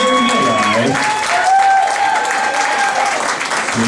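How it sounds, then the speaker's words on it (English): A studio audience at a game show applauds for a mother, a broad clapping roar under a host's voice and bright sustained musical tones, loud and steady for about four seconds. "Let's give a big round of applause for our mom."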